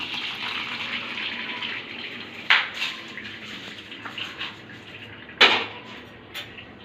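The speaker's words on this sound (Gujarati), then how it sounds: "ને એમાં છે ને આ ઠંડુ પાણી આપણે નાખશું," Cold tap water runs over freshly boiled pasta sitting in a perforated colander for white sauce pasta, a steady splashing gush with a couple of sharper clatters of water hitting the strainer.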